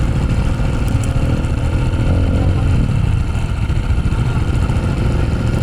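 A motorcycle engine runs steadily nearby, a continuous low throbbing rumble with no pauses.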